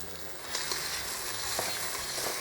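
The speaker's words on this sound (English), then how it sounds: "Give it a stir." Chopped chadon beni and onion sizzle steadily in a hot pan while being stirred, a constant close frying hiss with faint scraping and no voices.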